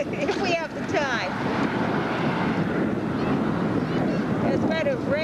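Strong wind gusts roar steadily outdoors on the Alaskan coast while clamming, a broad continuous rush close to the microphone with voices talking over it.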